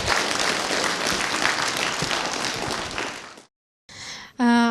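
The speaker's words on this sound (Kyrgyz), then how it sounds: "Кол чабуулар болсун." Dense crowd applause at a Kyrgyz youth talk event, loud and steady for about three and a half seconds, then it stops abruptly and a brief burst of other sound and a tonal electronic note follow.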